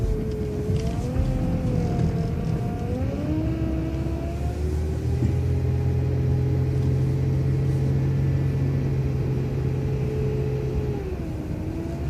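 A city bus on route 66 in Ann Arbor drives along and turns right onto Glencoe Hills Drive, a steady close engine drone with whining tonal hums rising and settling throughout.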